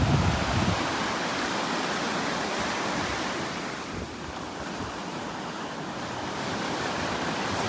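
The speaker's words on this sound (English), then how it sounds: "allows the small waves to break." Small ocean waves break in shallow water off a beach at Wellfleet as the tide goes out, a continuous broadband wash of surf with steady wind rumble and no voices.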